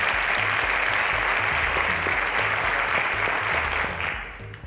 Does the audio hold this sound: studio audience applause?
yes